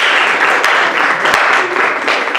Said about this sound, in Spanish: otro fuerte aplauso para la hermana